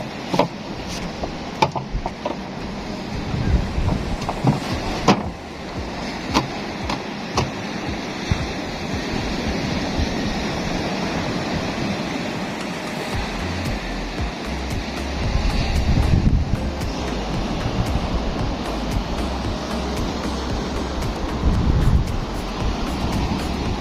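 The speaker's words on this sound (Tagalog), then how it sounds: "Sobrang lakas ng hangin." Strong wind buffets the microphone over a steady roar of sea waves, with surges of surf swelling louder partway through; no talking.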